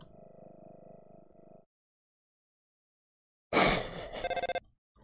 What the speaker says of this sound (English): I was not expecting that phone call.